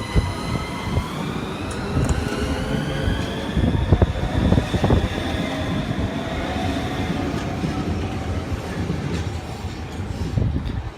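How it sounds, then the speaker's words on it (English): A Southeastern high-speed Class 395 train moves through Ashford International station in Kent, a continuous loud rumble of wheels and rail clatter with rising electric motor whine and occasional squeals, close by. "Here we have a high-speed Southeastern service now going to Margate."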